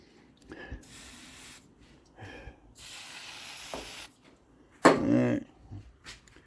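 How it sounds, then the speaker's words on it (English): Silicone spray from an aerosol can is applied to a rubber upper rear control arm bushing on a 2007 Dodge Nitro, in several short hissing bursts of varying length separated by brief pauses, close by, with a louder burst near the end. "Yeah, I'll give it some silicone."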